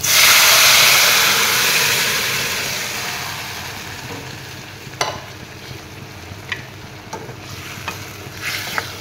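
Pumpkin and potato pieces hit a hot pan for a fish curry, a loud sizzle at first that gradually settles into a softer hiss, with scattered scraping clicks from stirring later on.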